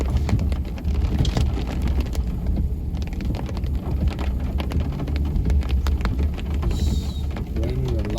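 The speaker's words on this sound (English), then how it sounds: "It's raining a lot." Heavy rain pouring steadily in a dense, continuous hiss with low rumbling beneath, loud and close throughout, with no talking.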